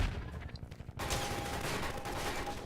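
A helicopter gunship fires a rapid volley of rockets in the Half-Life 2 mod The Closure, a dense, loud burst of blasts that starts abruptly after a quieter first second and continues steadily.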